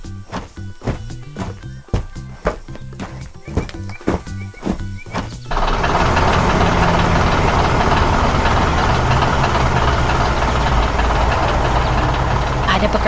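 A working machine engine in a farm animation about tractor-harvesting maple sap, starting as uneven clunks and knocks, then settling into a loud, steady continuous roar for the remaining seconds.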